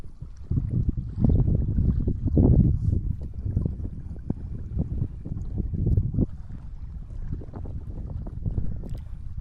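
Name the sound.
strong wind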